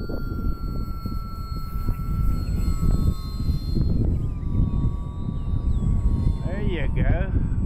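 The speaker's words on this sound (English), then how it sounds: "Flying today may be hazardous to your plane's health, Don." A small foam model airplane's propeller engine buzzes steadily overhead, its pitch rising and falling as it banks, with gusty wind rumble and people chatting nearby.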